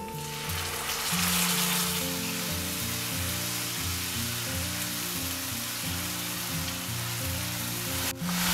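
Ground onion paste fries over a low flame in a pan for a pea and potato curry, sizzling broadly and steadily throughout under faint background music, with a small clink near the end.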